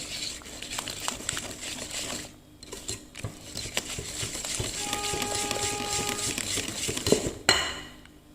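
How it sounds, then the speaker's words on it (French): Ingredients for caramel peanut butter cookies being mixed in a bowl, with irregular scraping, tapping and clinks of a utensil against the dish, close up and fairly quiet, briefly pausing midway. "Alors, il faut bien mélanger."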